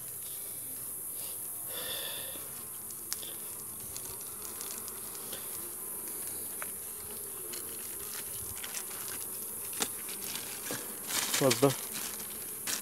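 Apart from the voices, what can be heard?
honeybees buzzing at an open hive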